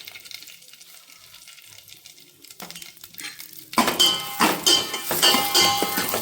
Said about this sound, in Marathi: मी या ग्लासनं 2 ग्लास पाणी टाकून घेतले